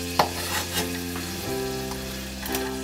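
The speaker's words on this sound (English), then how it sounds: "firstly onions in" Onions drop into a hot pan and begin to sweat, to go with steak for a pie, with a sharp tap at the start, soft stirring and a steady sizzle alongside a low hum, close and alone.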